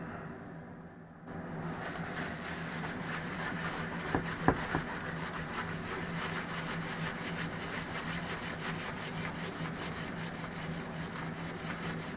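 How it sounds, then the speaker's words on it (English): A cloth or pad is rubbed steadily over a shellac-finished wooden surface in a workshop shed, giving a continuous, even scrubbing hiss that runs for several seconds without pause and without speech. "I'm taking some of the shellac off by rubbing"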